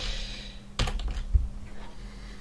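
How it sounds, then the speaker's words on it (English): Typing on a computer keyboard, a short cluster of close, crisp key clicks in quick succession followed by a slightly heavier final keystroke, with a faint steady hum behind. "If I could type."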